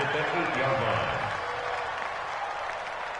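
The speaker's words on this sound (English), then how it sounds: "The crowd here in the Dome making things difficult." Simulated stadium crowd inside a domed arena in a PS4 football video game roars in a loud, continuous wash, with a commentator talking over it.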